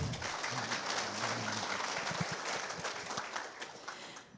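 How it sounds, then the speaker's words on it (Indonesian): Audience applauding at the Amaliah Astra Awards 2024 ceremony: a dense, steady wash of clapping from a large crowd that carries on through the whole stretch and tapers a little toward the end. "mari kita tepuk tangan untuk kita semua"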